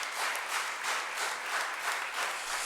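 Applause from an audience at a memorial yajna ceremony welcoming a guest, a steady wash of many hands clapping throughout, dense and continuous with no voices over it.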